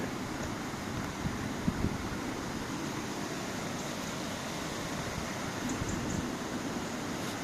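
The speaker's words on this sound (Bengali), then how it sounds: "পানির সাউন্ডটা শুনো" Broad steady rush of river water flowing along the Ruhr at Mülheim an der Ruhr, Germany, a constant wash of noise heard from a walkway with faint wind and a few small knocks, no talk.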